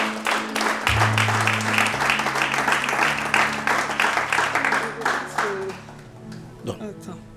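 A church congregation claps and applauds in praise, sustained steady clapping filling several seconds with an organ or keyboard chord underneath, tapering off near the end.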